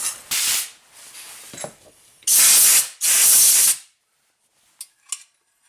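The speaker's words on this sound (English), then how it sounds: "You can blow it out. Some compressed air." Compressed air blasts into a ball joint hole on a Nissan Rogue during a ball joint replacement: a short hiss, then two longer, loud bursts of air, with faint tool clinks after.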